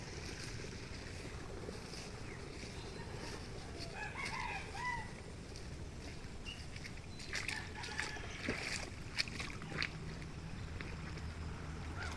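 Chickens cluck and a rooster crows faintly in the distance on a gamefowl breeding farm amid steady outdoor ambience, with a few louder bursts near the end.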